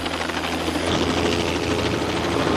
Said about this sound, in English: the med chopper lands on the roof of the hospital